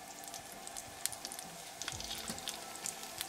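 Eggplant slices frying in hot oil in a pan over medium heat, a close, soft crackling sizzle with scattered pops throughout, no voices.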